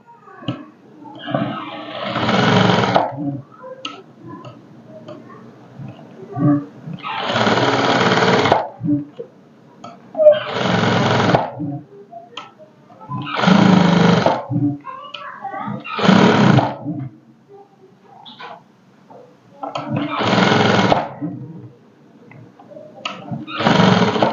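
A sewing machine stitches a high-neck blouse in six or seven loud, close bursts of a few seconds each, separated by quiet pauses, with no talk.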